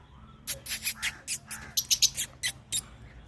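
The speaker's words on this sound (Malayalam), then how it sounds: "ആഫ്രിക്കൻ തത്തയെല്ലാം ഇങ്ങനെ പറി കളിക്കുന്നുണ്ട്" An African parrot gives a rapid series of harsh, squawking calls, loud and close, in bursts with short gaps between them.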